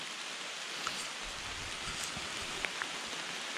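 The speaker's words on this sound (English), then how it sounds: "maybe the rain will die down on us, eh?" Steady rain hisses softly with occasional sharper droplet taps in Algonquin during fall, a quiet, even wash of sound with no voices.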